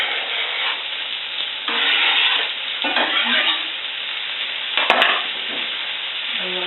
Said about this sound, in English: I'm going to go ahead and add my green peppers to that.